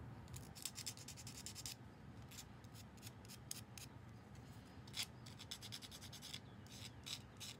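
Hand filing or sanding on wood, a steady run of rasping strokes close by, with brief pauses and a slightly sharper stroke near the middle; no voices.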